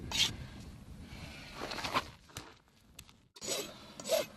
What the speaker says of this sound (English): if you have sharp hoof wall edges, you need to break that corner.